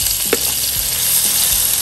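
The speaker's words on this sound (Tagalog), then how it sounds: "Sautein na natin yung itong ating" Pork and onion sauté in a hot pan, a steady close sizzle of frying with a few soft stirring scrapes and clinks over the continuous crackle.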